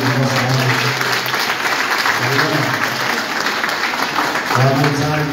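Audience applause at a village show in Ucea de Jos, steady dense clapping throughout with a voice talking over it in bursts.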